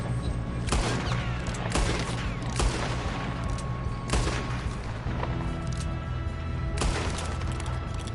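Bursts of gunfire in the video game Fortnite, several sharp cracking shots and rattling volleys scattered through a rumbling battle background, loud and close with no speech.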